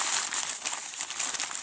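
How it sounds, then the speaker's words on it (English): A candle shaped like a calavera skull is unwrapped from its paper, giving a close, continuous crinkling and rustling for under two seconds, with no voices. "So let me get it out of its paper"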